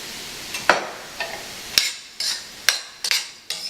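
Cooked brown rice with tamari stirred and scraped in a Saladmaster 12-inch chef pan: a series of sharp metallic utensil knocks and scrapes, close and clear, over a soft sizzle.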